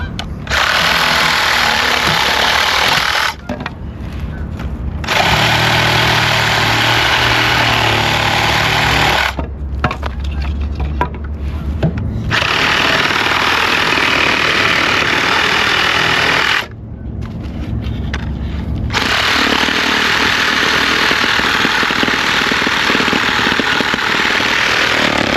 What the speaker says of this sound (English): Sawzall for the win.